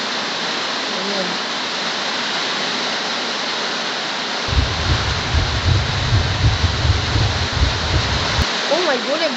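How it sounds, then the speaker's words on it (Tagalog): Heavy rain pours down as a dense, steady hiss, with a low rumbling vehicle-like drone joining midway and voices briefly heard. "lakas na naman ulan, boy"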